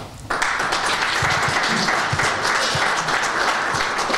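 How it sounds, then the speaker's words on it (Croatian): An indoor audience at a book promotion in Zenica breaks into applause. Dense, steady clapping starts abruptly and continues evenly at fairly high volume throughout. "Ja vas molim da pozdravite aplauzom Suada Mikara."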